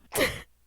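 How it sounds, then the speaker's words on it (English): A pet cat gives a single short, faint vocal cry, heard briefly and alone in a quiet room with nothing else around it. "Cat. That was my cat."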